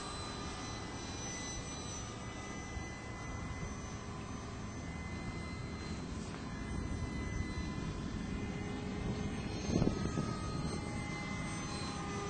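An RC model jet drones on its approach to land at a model airfield, a steady whooshing engine roar at moderate distance that swells slightly toward the end, with a brief knock near touchdown.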